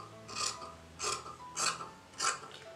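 Scissors slice through blouse fabric with two sleeve pieces layered together, giving four evenly spaced rasping snips about half a second apart, close and crisp, with no talking.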